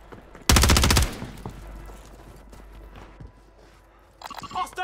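A loud burst of rapid automatic gunfire in Call of Duty Warzone 3, lasting about half a second, followed by quieter shuffling, footsteps and shouted voices, with more distant shots at the end.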